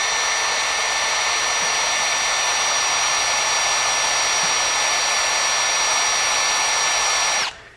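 A drill fitted with a Greenlee step bit meant for electrical boxes bores into 1/2 inch steel, giving a loud, steady whine with a constant high tone that runs unbroken, then cuts off abruptly at the end.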